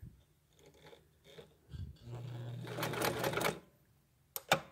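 A sewing machine tacks a doily onto the bottom of a rope bowl: a quiet, brief whirring run of stitching framed by soft handling noises, with a couple of sharp clicks at the end.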